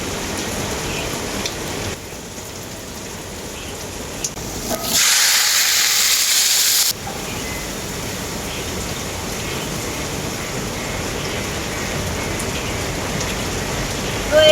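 Water poured into a pot of rice for pulao, a loud broad splashing rush lasting about two seconds amid a steady hiss of background noise, close to the listener.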